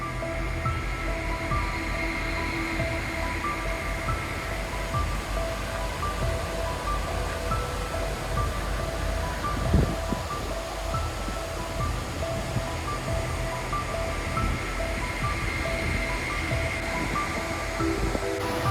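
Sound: mountain stream water falling into a small pool

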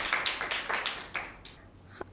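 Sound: audience clapping for quiz team B

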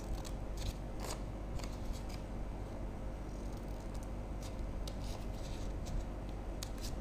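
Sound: scissors cutting a square piece of paper

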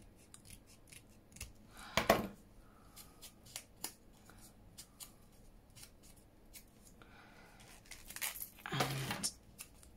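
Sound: scissors trimming around packaging

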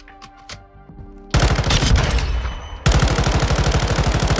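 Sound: M13C rifle firing in Modern Warfare 2 video game

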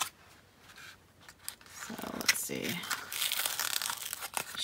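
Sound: opening a toy doll's packaging

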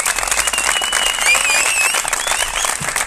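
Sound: group applause after a stretching session

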